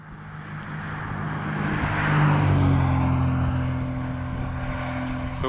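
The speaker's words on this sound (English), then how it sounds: "this is a major Florida highway, 72, state highway" A vehicle passes on Florida State Highway 72 in open wilderness, its engine and tire roar swelling to a loud peak midway and then fading into a steady drone of traffic.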